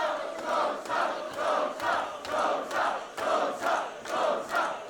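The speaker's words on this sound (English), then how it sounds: "The crowd got even louder." A packed crowd at a professional wrestling event in Haarlem, the Netherlands, roars loudly in steady rhythmic surges, like a pulsing chant repeating about twice a second, with no talking over it.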